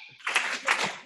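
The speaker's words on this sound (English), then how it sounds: "We get 2 claps." Two hand claps from a small group, sharp and close, each a short bright burst, the first near the start and the second about a third of a second later, with no talk.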